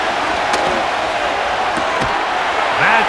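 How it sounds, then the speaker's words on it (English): Steady roar of a stadium crowd in the football game Madden NFL 25, a constant loud wash of cheering with a few sharp thuds over it. "The crowd making their presence felt."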